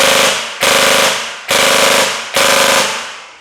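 A gel blaster fires in four short full-auto bursts, each a loud, rapid rattle of shots that fades before the next burst begins, with no voices over it.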